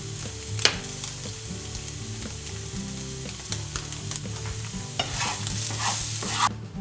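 Cubes of tofu frying and being turned in an oiled pan, a steady close sizzle with occasional sharp clicks and scrapes of the utensil, louder bursts of crackle near the end, no voices.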